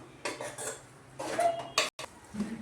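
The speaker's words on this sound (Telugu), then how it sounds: "మంచిగా కలుపుకోవాలి మనం మొత్తం మసాలా అంతా దీనికి పట్టేలాగా." Chicken egg noodles being mixed in a pan with a utensil: repeated clinks and scrapes of metal on the pan in irregular bursts, close and fairly loud, with no talking.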